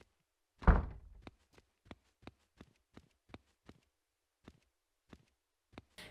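A door opens in the survival horror game Cannibal Abduction: one loud heavy thunk, then a string of sharp, evenly spaced knocks like footsteps, close and dry with no talk.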